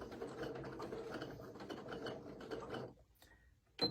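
A sewing machine stitches over fabric and a small hanger loop while a quilt block is made, a steady fast mechanical whir that runs for about three seconds and then stops, followed by a brief click, with no talking.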